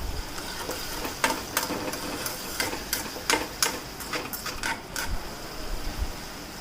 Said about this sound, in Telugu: కొద్దిగా సాల్ట్ సాల్ట్ వేసుకున్న తర్వాత మనం ఒకసారి కలతిప్పుకోవాలి